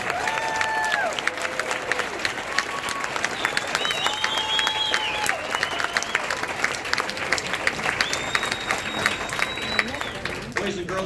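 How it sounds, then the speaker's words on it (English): Elementary school audience at a children's performance applauds in a long, dense patter of clapping with scattered cheers and chatter mixed in throughout. "How about another round of applause?"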